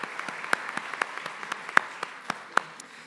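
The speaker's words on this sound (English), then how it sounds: "Let's have one final round of applause for our students, faculty, and staff" Audience applause for students, faculty and staff at a 2024 honors convocation, heard as faint, scattered individual claps with a few sharper louder ones over a soft bed of clapping.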